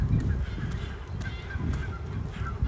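Geese honking at Wascana Lake in Regina in late March, a loud, continuous chorus of nearby honks over outdoor ambience.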